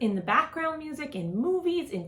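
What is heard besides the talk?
No everyday noises stand out.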